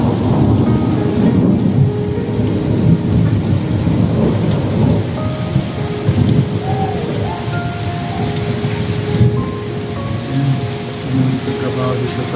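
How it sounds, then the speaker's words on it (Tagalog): Heavy downpour pounding surfaces during a thunderstorm in Saudi Arabia, a loud steady roar of rain with rolling thunder rumbling underneath throughout. "Grabe ang buhos na yun."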